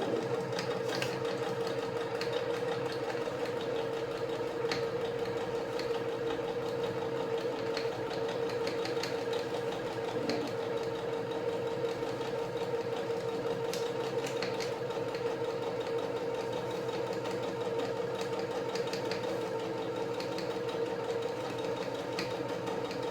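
A sewing machine stitches cushion fabric in a continuous, steady whirring drone with a fast mechanical rattle, close and even throughout, with no talk.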